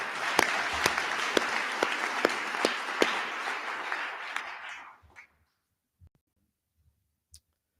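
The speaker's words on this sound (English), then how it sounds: "If I could have a round of applause for our staff" A round of applause for the staff at Beacon House's 30th anniversary event. Dense clapping from the room with a few sharp louder claps, running for about five seconds, then fading to near silence broken by a couple of stray sounds.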